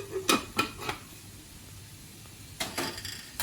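Ivy gourd fry being stirred in a pan, with a few soft scraping clinks of the utensil against the pan in two short clusters separated by a quiet pause.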